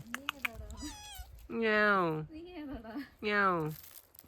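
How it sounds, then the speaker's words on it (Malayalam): A kitten in a Darjeeling tea-garden village meows repeatedly: short chirps, then two long, loud drawn-out meows close by, with quiet rustling between them. "പൂച്ചക്കുട്ടി നമ്മളെ പിന്തുടർന്ന് തന്നെ ഉണ്ട് കേട്ടോ"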